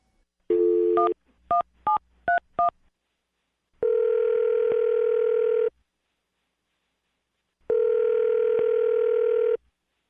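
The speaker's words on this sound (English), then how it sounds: "I'm going to dial his phone number right now" A telephone call being placed: a short burst of dialing tones, then a few quick keypad beeps, followed by two long, evenly spaced ringback tones with silence between them, clear and close.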